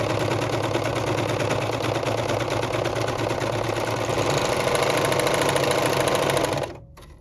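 A serger sewing machine cuts and stitches a curved fabric edge, its fast, steady mechanical whir running loud and continuous up close before stopping abruptly near the end.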